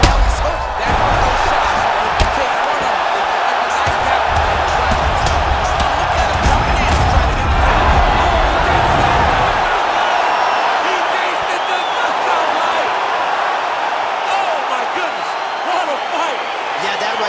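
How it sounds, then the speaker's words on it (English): A virtual arena crowd roars and cheers after a knockout in the EA Sports UFC 4 video game, a dense, loud sustained wash of noise with a low rumble fading partway through, commentary talk running over it. "Crowd absolutely loving it."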